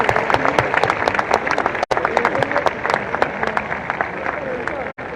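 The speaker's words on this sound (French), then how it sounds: "Mesdames et messieurs, vos applaudissements pour Thibaut Vauchel-Camus, le skipper de solidaire au peloton" Crowd applauding a skipper at the locks during the Route du Rhum 2022 sailing race, dense steady clapping and cheering throughout with a few sharp louder claps, briefly cut out twice, a voice mixed in.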